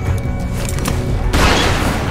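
Gunfire in The Walking Dead: 400 Days, with booming shots and clatter giving way to a louder, broader burst of noise about two-thirds of the way through, all under a dense game soundscape with no talking.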